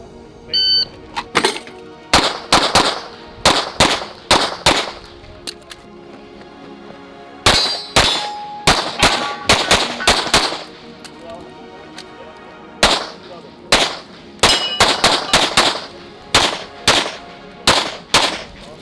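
Pistol shots and ringing steel target clangs at a shooting match, coming in rapid bursts of sharp bangs, each followed by a metallic ring, with short pauses between strings. Shooting is loud and close, with faint talk in the gaps.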